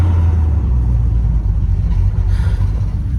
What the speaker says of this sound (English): We got some cars coming out this way.